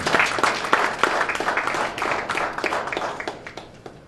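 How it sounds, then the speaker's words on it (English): A small group claps together in a lively burst of applause that gradually tapers off. "So if we can give them a round of applause."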